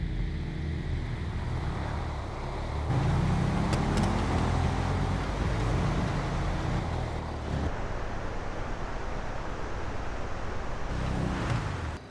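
A street-outlaw drag race in GTA, a Red Nova leaping off the line early against Racing Boy's car, engine roaring loud and steady through the run with a surge partway in and rushing wind-like noise.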